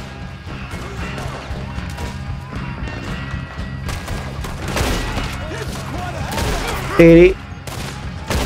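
Gunfire during a shootout in Red Dead Redemption 2, with scattered sharp shots and a heavy crashing impact near the end, under ongoing game music and ambience while someone talks excitedly.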